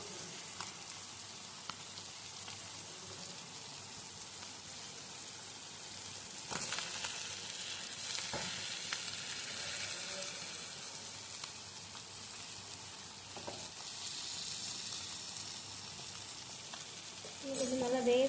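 Small salai fish fry in a pan with a continuous, even sizzle and crackle at moderate level, and a brief clatter of handling near the end.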